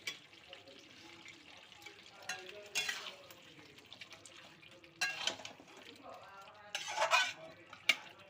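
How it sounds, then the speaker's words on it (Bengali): Chicken kosha with garam masala is stirred in a pan, producing a quiet sizzle with scraping and clinking spoon strokes in short bursts, with soft talk now and then. "গরম মশলাটা আমি ভালো করে মিশিয়ে নিলাম।"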